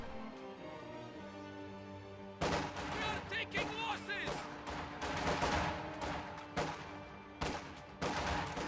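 Rapid bursts of gunfire crack out repeatedly across a battle in a real-time strategy game, dense and overlapping after a quieter opening with music, as grenadiers advance on the front line against conscripts.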